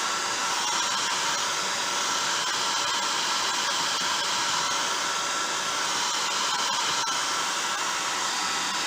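Hair dryer blowing warm-to-cool air over a watercolor landscape painting, a loud steady whooshing hiss that runs unbroken throughout, with no voices.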